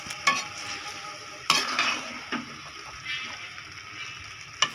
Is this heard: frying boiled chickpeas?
yes